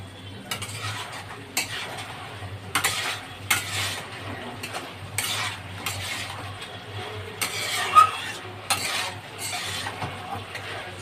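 Chicken being sautéed with spices in a covered pan, with intermittent scraping and stirring strokes against the pan over a quiet low hum, moderately close.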